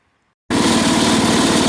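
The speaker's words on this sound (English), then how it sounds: "this is like the most comfortable mower ever" 1961 IH Cub Cadet Model 70 garden tractor with a 7hp Kohler engine, which kicks in suddenly after a short silence and runs at a loud, steady, throbbing pace, close up.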